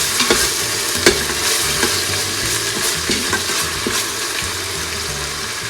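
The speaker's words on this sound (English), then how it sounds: "Give it a stir." Vegetables frying in a pan, a loud constant sizzle punctuated by several sharp clacks and scrapes of a utensil stirring close by.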